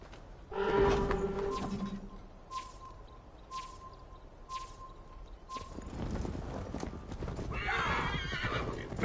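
A horse in Assassin's Creed Valhalla clip-clops along with a loud whinny at the start, then steady hoofbeats continue at a moderate distance, with a brief rush of movement near the end.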